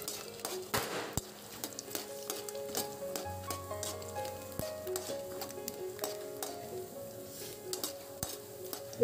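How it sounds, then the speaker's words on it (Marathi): Peanuts dry-roasting in a pan over high gas are stirred and tossed, giving faint rattling, scraping and clinking against the metal with a low background hum. "आता मी हे वाटी भरून शेंगदाणे भाजणार आहे।"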